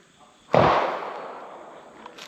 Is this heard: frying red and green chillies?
no